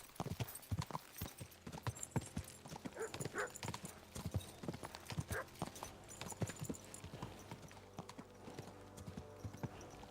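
Rapid hoofbeats pound along as a horse gallops in Kingdom Come: Deliverance 2, close and constant, with a brief whinny breaking through the running clatter.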